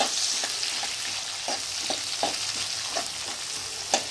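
Onions fry in oil until brown under a dense, constant sizzle close by, with brief scraping strokes from stirring every half second or so, and no voices.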